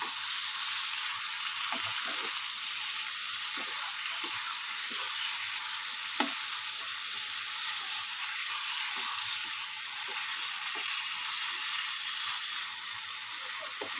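Continuous bright sizzle of fish frying in a pan, with occasional soft scraping taps of a spatula stirring at close range, steady and unbroken for the whole stretch.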